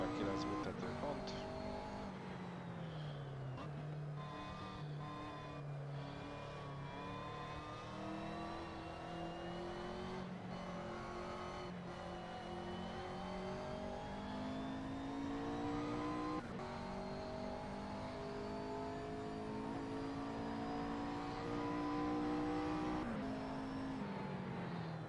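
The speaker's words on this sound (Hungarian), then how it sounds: "Ez a McLaren MP4. És a GT3 autó." A McLaren MP4-12C GT3 race car in the Assetto Corsa racing game drones through a time-attack lap, its engine note rising and falling through gear changes with occasional tyre squeal, fairly faint and continuous, with someone talking over parts of it.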